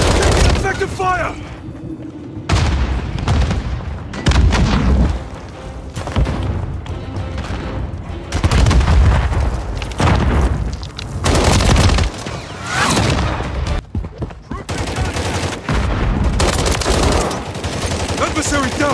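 Dense Call of Duty Modern Warfare multiplayer firefight with rapid automatic gunfire and booming explosions, loud and near, bursts surging and dropping throughout while shouted voice callouts play over the battle.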